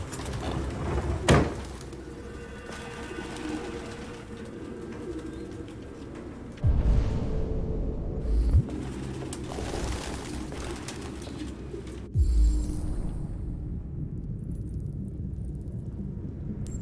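Pigeons coo in the game Detroit: Become Human, a continuous low murmur of cooing over quiet ambience, broken by a few soft thuds and flapping bursts, with no voices.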